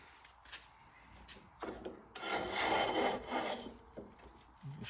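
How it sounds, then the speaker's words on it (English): High-grit sandpaper rubs against a small carved wooden coffee scoop, making quiet, dry scratchy strokes that swell into a longer, firmer rub in the middle. No one speaks. "I'll take a high grit piece of sandpaper."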